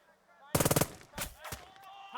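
Burst of rapid machine-gun fire in the Burden of Command wargame, six sharp shots in quick succession followed by a few scattered single gunshots and faint background battle noise.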